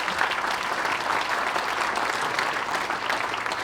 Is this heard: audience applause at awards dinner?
yes